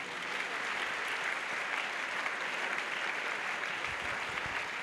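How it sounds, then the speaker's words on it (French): Sustained crowd applause fills an evangelism crusade gathering, a dense, steady wash of clapping from many hands, loud and even throughout with no voices standing out. "Acclamez. Clap,"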